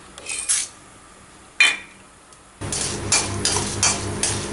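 Urad dal tipped into hot oil in a kadai, with a couple of brief metallic clinks and scrapes before a steady close sizzle takes over, punctuated by stirring knocks.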